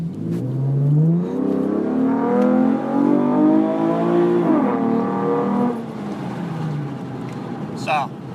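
A 2013 Camaro V6 with a near-muffler-free catback exhaust accelerates through rising, raspy pulls heard through an open window. Someone talks over the engine, and a brief high chirp comes near the end.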